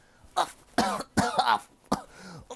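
A man coughs in several harsh bursts, spaced unevenly, close and fairly loud against a quiet background.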